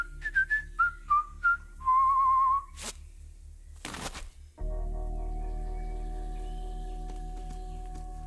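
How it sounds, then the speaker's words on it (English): Whistling in the adventure game Trüberbrook: a string of short, clear whistled notes, then a longer sustained whistle, followed by sharp bursts and a steady droning background tone. "Whistle 2 times, leave delivery on doormat, and exit the area."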